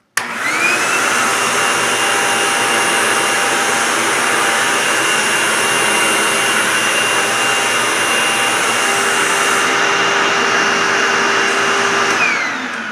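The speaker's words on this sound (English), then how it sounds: "Show you just how powerful the exhaust is coming from that side." A Hoover Tempo Widepath upright vacuum cleaner runs continuously, a loud close whine and rushing exhaust airflow holding steady throughout after a sudden start, with a faint whistle running under the roar.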